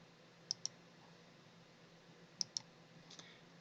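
Computer mouse clicks land in two quick pairs, then a fainter pair, sharp and close against a quiet room hum with no talking.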